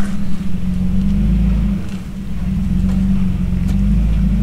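A Toyota FJ Cruiser engine labors as it crawls up rocks at Holcomb Creek, with a deep, steady rumble that sags briefly in the middle before building again, close and loud.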